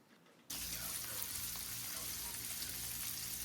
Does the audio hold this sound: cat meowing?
no